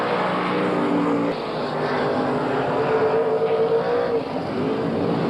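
Speedway sedan race cars at Archerfield Speedway in 1981 roar down the straight together, a loud, continuous, dense engine drone that swells and wavers as they lock side by side, with no talk.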